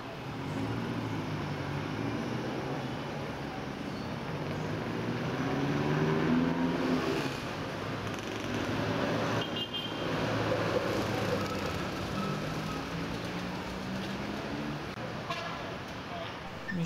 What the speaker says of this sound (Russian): Между тем городок довольно шумный, и здесь очень и очень много транспорта.